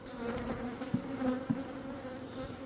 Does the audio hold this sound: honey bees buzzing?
yes